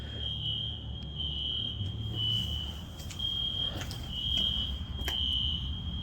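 A fire alarm sounds in an abandoned school, a steady piercing electronic tone repeating in pulses over a low rumbling background, with occasional clicks and knocks, moderately distant.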